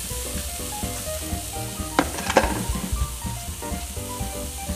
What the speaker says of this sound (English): So we've got some flame going. The steaks are starting to cook.